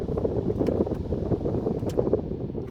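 Steady, broadband air rushing from the cab AC of a 2025 Signa BS4 14-wheel trailer truck, heard close and continuous throughout with no talk.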